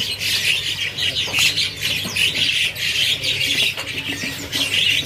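Dense, overlapping chirps and squawks from many small caged birds at Pramuka bird market, continuous and fairly loud, like a crowded market full of cages.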